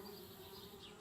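Bees buzzing around a tree house in the point-and-click game Anna's Quest, a faint, steady insect drone held evenly for about a second with no talk.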